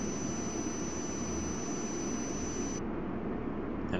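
A jet airliner spools up for takeoff at Frankfurt airport in the game Tower! 2011, a steady loud roar and hiss that continues throughout, with the highest hiss dropping away near the end.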